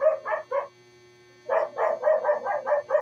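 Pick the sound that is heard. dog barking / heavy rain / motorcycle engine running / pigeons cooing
dog barking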